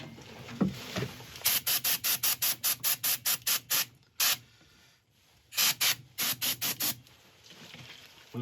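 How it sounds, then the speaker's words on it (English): Compressed air blasts over a woodturning wet with isopropyl. A rapid string of short, loud, hissing bursts comes first, then a pause and a second volley of similar bursts, all close up and with no talking. "Time to clean this off with a bit of isopropyl and a bit of air blowing."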